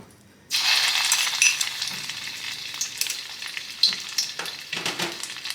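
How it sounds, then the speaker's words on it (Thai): Thai curry paste hits a little oil over low heat and sizzles up suddenly, then keeps crackling while it is stirred, with occasional scrapes and clinks against the pan, close by and with no talking. "น้ำมันเล็กน้อยนะครับ ใช้ไฟอ่อน ผัดเครื่องแกงให้หอม"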